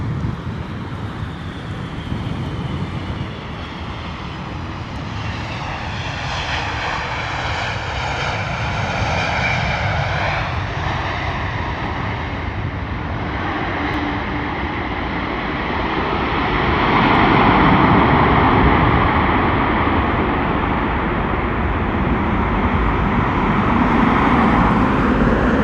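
An airliner lands at London Heathrow in wind and rain, a loud sustained jet engine roar that shifts in pitch as the aircraft passes, swelling further near the end, with wind buffeting the microphone throughout.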